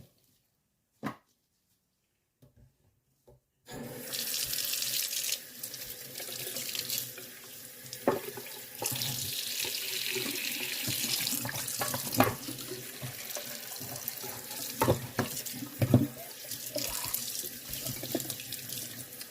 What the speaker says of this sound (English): Just give them a good rinse.